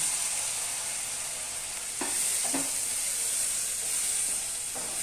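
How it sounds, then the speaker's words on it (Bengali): Banana flower frying in a pan sizzles with a steady, bright hiss after water is added, with a few soft stirring clinks and scrapes breaking through the continuous crackle. "আমি না একটু জল দিয়ে দিচ্ছি, কারণ নাহলে না"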